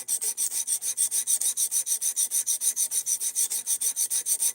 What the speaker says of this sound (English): it's taking forever to fully reprofile this edge